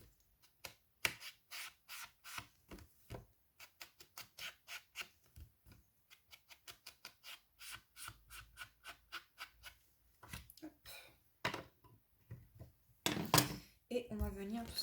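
Ink pad rubbed repeatedly along the edges of a handmade Christmas card with baked brick-coloured distress ink, giving a series of short, close, soft scuffing strokes in steady rhythm, with a few louder rubs near the end.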